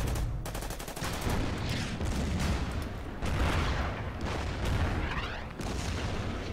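A sustained barrage of gunfire and artillery from the Order of Battle video game, set in a US Marines battle in the Marshall Islands, rolls on as layered cracks and heavy thumps in an unbroken, fairly loud wash.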